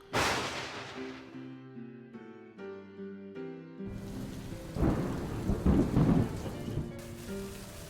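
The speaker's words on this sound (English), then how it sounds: "It's pouring rain." Heavy rain pouring on a car during a drive toward Las Cruces, with deep rolling thunder rumbling near and loud, then a dense wash of rain drumming on the vehicle alongside some tonal background music.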